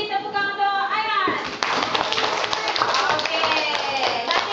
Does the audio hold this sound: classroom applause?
yes